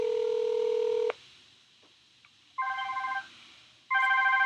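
Telephone keypad DTMF tones play back from a recorded VoIP call stream: one long steady tone, a quiet gap, then two short bursts of dual tones, clear and alone without talk.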